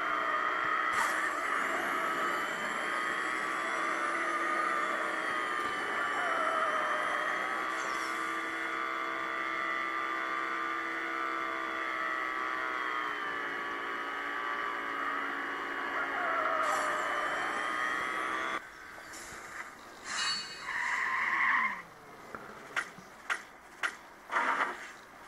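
A car driving in Need for Speed No Limits: a steady engine drone that holds its pitch for most of the stretch, then breaks into short clicks and menu blips near the end.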